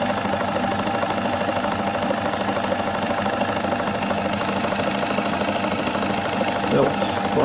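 A vintage DeVry 35mm movie film projector runs at speed. It makes a steady, loud mechanical whirr and rattle with a fast, even clatter that continues without a break.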